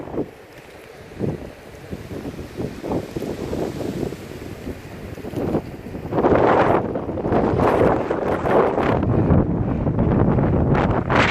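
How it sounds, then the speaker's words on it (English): Strong wind buffets the microphone during an ElliptiGO bike ride, gusty rumbling bursts that build into a loud, continuous roar in the second half, with no talking. "The wind is so strong, I'm just flying along at 20 miles an hour."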